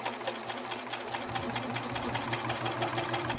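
Close, steady whirring of a sewing machine stitching elastic into the waistband of ladies' all-in-one panties, with a fast, even needle rhythm running throughout.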